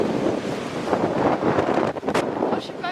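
Wind buffets a microphone outdoors in Spain, a loud, rough, fluttering roar that surges and dips through the whole stretch, with brief voices coming through near the end.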